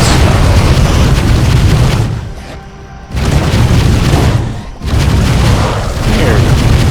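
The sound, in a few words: shooting in the video game Voidling Bound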